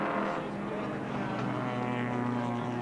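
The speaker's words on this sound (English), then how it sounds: "Dick Johnson now swings onto the straight to take third position." Touring cars race at Wanneroo Raceway in 1984, a steady droning engine note with sustained harmonic tones, heard from a distance under a commentator's voice.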